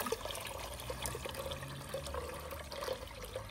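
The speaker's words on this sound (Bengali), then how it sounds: "হইতে পাইপ দিয়া পানি দিলাই।" Water pours from a garden hose pipe in a steady, moderately loud rushing stream with fine splashing texture, continuous and without any voices.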